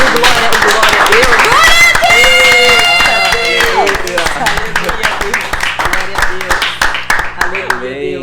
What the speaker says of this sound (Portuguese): Uma salva de palmas para esse Jesus